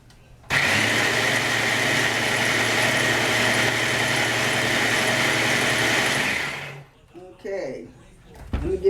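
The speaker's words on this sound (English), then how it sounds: "Make sure all the garlic is blended all the way up" An electric blender whirs loudly and steadily for about six seconds while blending garlic for garlic salt, then cuts off, followed by brief clattering handling sounds.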